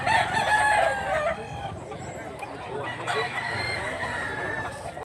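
A rooster crows loudly nearby in Mantalongon, Cebu, a drawn-out strained call, then further crowing and clucking over steady background noise.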